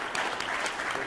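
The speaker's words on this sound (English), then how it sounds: "let's all give him a round of applause" Brief round of applause at a city council meeting celebrating a staff member's birthday, a steady patter of clapping from a small group nearby.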